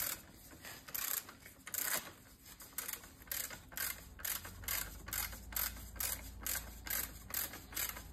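A ratchet wrench with a 21 mm socket tightens a spring compressor on a car shock absorber, giving a steady run of close, regular clicking strokes with no talk.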